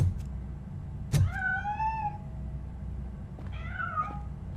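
A cat in the video game Robocop: Rogue City meows twice, a long rising-falling call followed by a shorter one a couple of seconds later, clear over a low rumbling ambient background.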